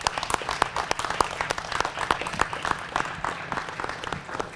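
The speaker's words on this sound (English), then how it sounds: "One more time, let's give a big round of applause to Chaplain Vern Baardson." A small crowd claps steadily at a law enforcement salute honoring a police chaplain, moderate and slightly distant, a continuous patter of hands without speech.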